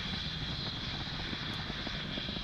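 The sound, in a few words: SpaceX rocket Merlin 1D engines during ascent near max Q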